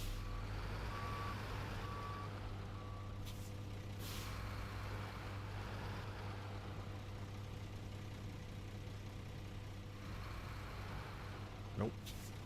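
A heavy truck in the off-road driving game SnowRunner reverses with a steady, repeating backup beep over a constant engine drone and rumble, with a brief hiss near the end.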